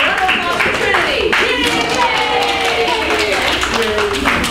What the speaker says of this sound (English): A round of applause for Trinity